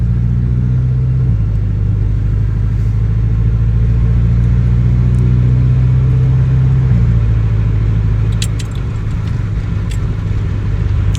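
A Volkswagen GTI with a new ECU and TCU tune accelerates hard from the cabin, its engine droning loud and steady with a low rumble throughout, stepping between gears, with a few faint clicks near the end.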